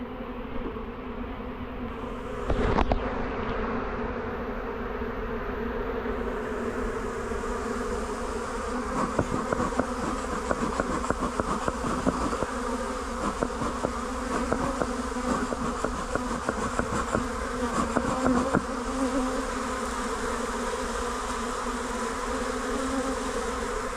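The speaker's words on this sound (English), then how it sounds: "A lot of bees come out next door to us there." A steady, dense buzzing of many honey bees in a garden ornament in Norfolk fills the clip, continuous and close, with brief louder passes as insects fly near.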